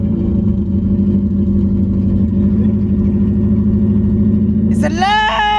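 A Subaru engine cranks over with a steady, rapid mechanical chugging, then catches and roars to life with a sharp rising rev near the end, heard up close.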